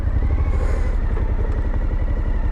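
Suzuki V-Strom 1050 motorcycle engine idling low and steady during a slow U-turn on soft ground, a continuous close rumble with no talk.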